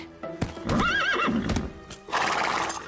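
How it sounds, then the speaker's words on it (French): A cartoon horse on a ranch gives a loud, wavering whinny amid hoof clip-clops, all close up, followed by a burst of rustling noise. "Ce cheval est vraiment magnifique."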